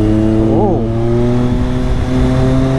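A Triumph 660cc inline three-cylinder motorcycle engine idles with a steady, close drone, rising in one quick rev blip early on before settling back to an even idle.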